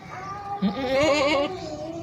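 A two-toothed Majinpuri cross breeder billy goat gives one drawn-out, wavering bleat close by at a Karachi livestock market.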